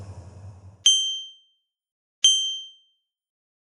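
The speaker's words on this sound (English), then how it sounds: "From inside his equipment bag came the sound of a bell." A small, old bronze bell rings three times from inside an equipment bag, each clear, isolated ding ringing out and fading into silence.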